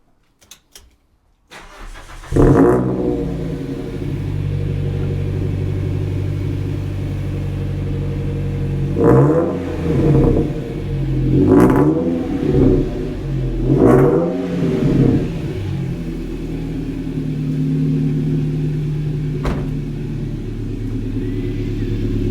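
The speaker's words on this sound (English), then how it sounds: "So we're going to hit a cold start now, not revving it." A Toyota Celica engine cranks and catches on a cold start, then settles into a steady idle with a few brief swells in revs before holding a low, even rumble.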